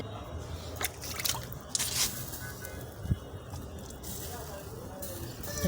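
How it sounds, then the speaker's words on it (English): Water sprinkled by hand over BBQ chicken pieces browning on a grill gives faint scattered drips and soft wet squishes over a low background rumble, with a few brief louder splashes. "I'm going to first sprinkle some water to soften it."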